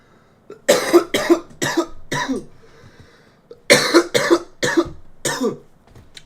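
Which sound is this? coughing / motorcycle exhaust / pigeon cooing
coughing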